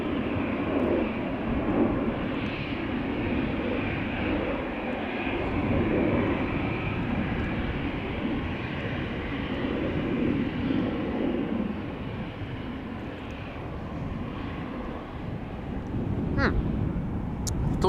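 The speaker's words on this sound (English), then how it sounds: "What we're waiting for is the Atlas Air 7478 that will be taking off to Seoul from the center runway shortly." An Atlas Air Boeing 747 lines up for takeoff on the center runway at Amsterdam Schiphol: a continuous low jet engine rumble and roar, steady and moderately distant, with a faint voice in the background.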